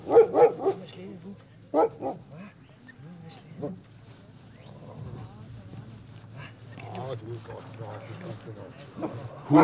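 Sled dogs in summer coat bark and yip in short bursts at the start, with another brief bark near the middle and more at the end, mixed with people talking and background activity.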